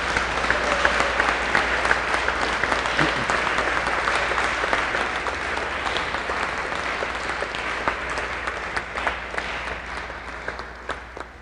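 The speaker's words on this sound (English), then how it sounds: "can we get a big round of applause for all the parents?" Sustained applause from an audience for parents at a Navy Junior ROTC change of command ceremony, a dense, even wash of clapping lasting over ten seconds with a low hum underneath.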